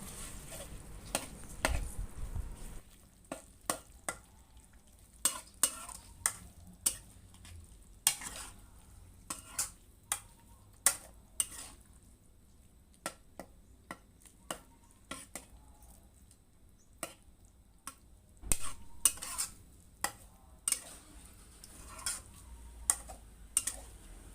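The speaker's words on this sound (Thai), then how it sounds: "คนให้ไก่กับพริกแกงเข้ากันจ้า" Scraping and clinking stirs of chicken frying with curry paste in a pan for green curry, irregular taps over a soft low sizzle, close by with no talking.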